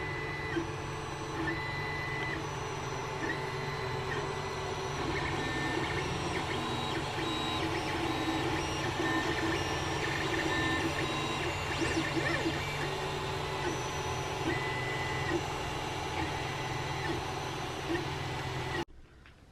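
A 3D printer printing parts for a Japanese lantern whirs and buzzes steadily with high stepper-motor whines and shifting tones, running continuously close by, with no voices.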